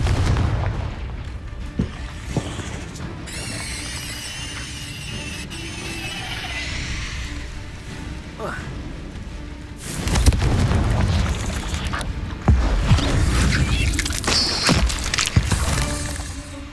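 Confringo spell blasts erupt in the Hogwarts Legacy video game, a run of loud booming explosions and gunfire-like cracks during combat, growing denser and heavier in the second half.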